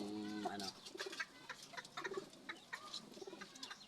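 Two backyard hens cluck and coo close by in short, uneven bursts of soft calls, with some faint background voices.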